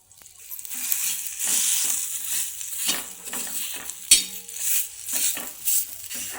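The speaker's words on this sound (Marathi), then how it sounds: "हा असा कांदा फोडायचा" Onion crushed by hand in a pan with a little oil while cooking a village-style black masala potato curry, giving a run of close, wet squishing and crackling sounds with faint sizzling and no talk.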